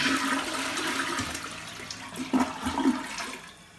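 Toilet flushing in a home bathroom after a septic tank treatment pod is dropped into the bowl, a steady rushing swirl of water that surges briefly near the end before draining away, close and alone.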